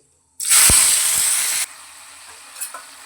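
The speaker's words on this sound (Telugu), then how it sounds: "ఇప్పుడు కట్ చేసుకున్న టమోటా ముక్కలను వేయాలి" Chopped tomato pieces dropped into hot oil with mustard seeds, curry leaves and dried red chilies for a tomato curry, bursting into one loud hissing sizzle that cuts down to a quieter fry, then a couple of small clinks.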